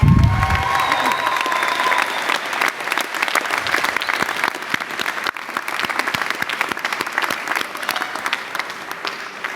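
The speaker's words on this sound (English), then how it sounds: "Give them a big round of applause because they deserve it." A large audience at a university graduation ceremony applauds loudly and steadily, dense continuous clapping filling the room throughout, with a voice heard briefly at the start.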